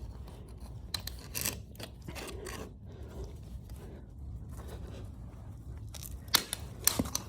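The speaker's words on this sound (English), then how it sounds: "I'm just gonna cut this in half." Snips cut sheet metal for an EK hatch rust patch, giving a series of close, sharp, crisp snips and scraping cuts in a quiet room, irregular and fairly faint.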